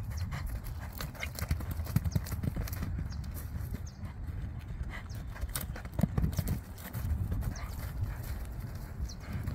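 Hooves of an agile dark bay horse with a white-blazed face clip-clop steadily in a rapid rhythm as it changes leads on rough ground, loud and close throughout.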